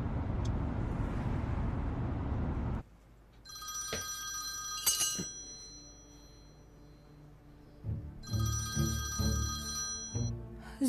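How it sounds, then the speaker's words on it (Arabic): A telephone rings indoors in a TV drama scene with bright, tonal electronic ring bursts in two separated groups, fairly close, following a stretch of broadband noise and mixed with faint clinks. "مين على التليفون؟"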